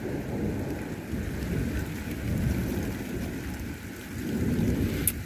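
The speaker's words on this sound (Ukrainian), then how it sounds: "Пустився дощ, а хіба нам той дощ агрус?" Steady rain falls in a continuous broadband hiss on a garden, moderately loud and close, with a slight swell toward the end.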